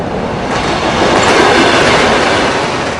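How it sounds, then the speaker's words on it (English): A train rumbles along rails with a steady, loud, continuous roar and faint rhythmic clatter of wheels, alone without any talk. "sound of the train. You could hear it from miles away, beckoning you."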